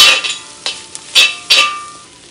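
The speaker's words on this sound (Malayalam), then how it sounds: "ഇതെല്ലാം നമ്മൾ ലോ ഫ്ലെയിമിൽ വേണം മിക്സ് ചെയ്യാനായിട്ട്" Egg and rice being stirred together in a pan over a low flame while making chicken fried rice: a few short, close scrapes and clanks of a spatula against the pan, with faint sizzling between them.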